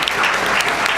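A live debate audience claps in a dense, loud burst, with many hands blending into a steady wash. No one speaks over it.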